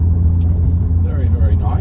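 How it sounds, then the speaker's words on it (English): Audi TTS accelerating gently, steady low engine rumble with a faint rising turbo whistle building near the end, heard from inside the car. "Just accelerate a little bit. You can hear that turbo spool up"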